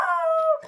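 A young dog, about six months old, lets out a short close howl. It is a loud, sustained tonal wail that trails off at the end.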